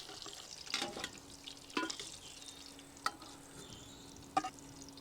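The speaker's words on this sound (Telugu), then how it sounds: "ఆయిల్ వేడెక్కిందండి ఇప్పుడు గుడ్లు వేసేసుకుందాం గుడ్లు రోస్ట్ చేసుకుని తీసి పక్కన పెట్టుకుందాం" Eggs roast in hot oil in a pan for egg dum biryani, a faint sizzle under a few sharp spoon taps and scrapes spaced out over several seconds, with no voices.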